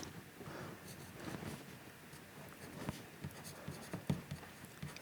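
A pen marking a bicycle frame design drawing on paper for a new gravel bike, close soft scratching strokes with small taps, steady and faint.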